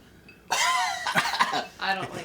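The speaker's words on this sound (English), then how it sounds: "He got smoker's cough just by smelling." A man coughs after smelling smoky whiskey, a close harsh burst followed by a second, throatier cough a moment later.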